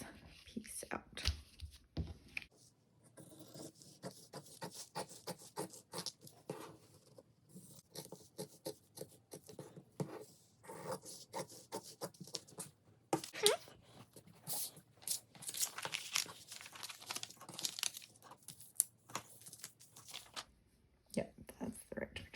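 Scissors crunch and snip through seersucker fabric in quick irregular bursts, close and crisp, with soft rustling of the cloth between cuts and a few pauses.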